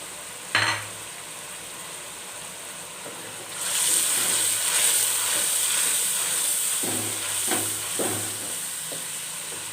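Garam masala, turmeric, red chili, Kashmiri chili and yogurt fry and are stirred in a pan for beef kofta gravy: a steady loud sizzle and hiss sets in after a brief early clatter, with occasional utensil scrapes.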